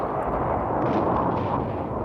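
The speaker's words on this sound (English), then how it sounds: "Israeli artillery shelled the most stubborn Syrian strongpoints with pinpoint accuracy" Artillery shelling, a dense continuous rumble of heavy low booms that sounds distant and sustained, with no talk over it.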